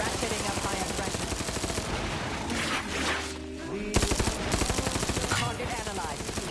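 Rapid gunfire in The Outer Worlds 2, with dense machine-gun-style bursts rattling almost continuously, a brief lull midway, then renewed shooting; faint game voices sit underneath.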